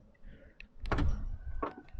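The door lock of a seventh-generation Honda Civic with a faulty lock motor is operated, giving two short mechanical clunks and whirs about a second apart that are close and fairly quiet.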